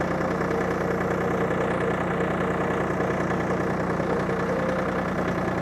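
A Mitsubishi MTM250 Japanese mini tractor engine idles steadily and close by, a continuous low chugging hum with a faint knocking rhythm that holds for several seconds without talk.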